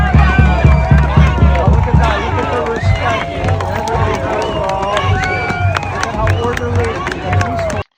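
Iranian crowd cheering at a street rally in Toronto, a dense continuous roar of many voices with shouts, whistles and scattered clapping, loud and close throughout.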